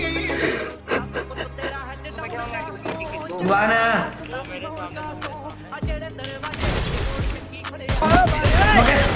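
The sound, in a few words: gunfire in the video game Free Fire MAX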